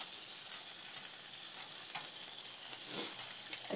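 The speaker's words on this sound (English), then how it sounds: "Half a cup of beef broth" Beef broth sizzling and bubbling in a hot steak pan while cooking a mushroom sauce, a quiet steady fry with occasional stirring scrapes and clinks.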